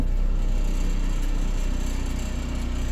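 A 2008 Dacia Logan MCV engine idles with a low, steady throb while the shaking car rattles and vibrates continuously close by.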